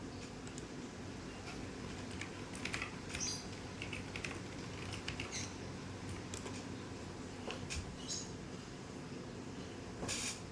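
Keystrokes clatter faintly on a computer keyboard in short irregular bursts while a command is entered, set against a steady low background hiss.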